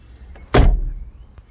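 A single solid thunk as the door of an Austin Rover Maestro Clubman hatchback is pushed shut, loud and close, followed by a short low rumble as the body settles, with no voices.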